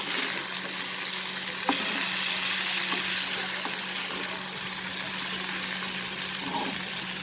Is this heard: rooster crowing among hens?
no